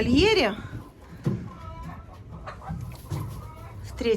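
Hens clucking in their pen at a poultry yard, starting with a loud drawn-out squawk, then scattered short clucks and murmurs close by over a low background.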